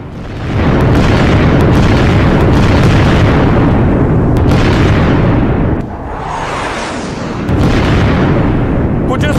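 Deep, heavy booms from US missile strikes on a road roll out one after another. Loud, sustained rumbling bursts with a brief dip midway, then another blast swelling back up.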